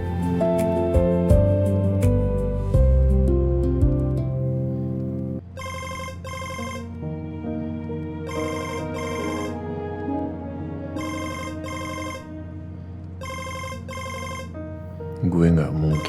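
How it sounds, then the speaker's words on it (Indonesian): A telephone rings in repeated double-burst patterns, four times over steady background music, while someone is on the road and doesn't answer it. "Kok nggak diangkat teleponnya?"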